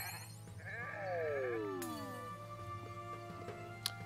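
Sheep bleating in the video game Renowned Explorers, a couple of clear wavering bleats over a quiet electronic game backdrop, followed by a small chime.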